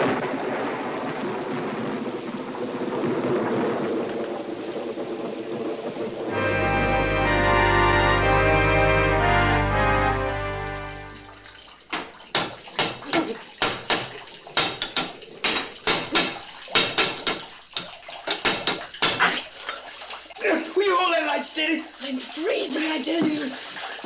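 Rushing, rising water in an old radio drama, a broad roar that swells and then gives way to splashing and sloshing, heard close under stretches of background sound.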